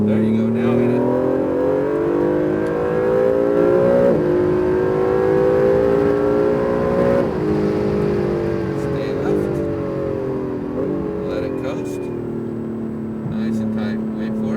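Acura NSX at full throttle on a Las Vegas race track, its engine note climbing and surging steadily through gears with brief dips at shifts, loud and close from inside the cabin, with an instructor's voice speaking over it.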